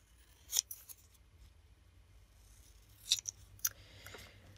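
Scissors cut around a vintage paper craft piece, giving a few faint, crisp snips spread across a quiet, low-level background, with one early snip and a small cluster later on.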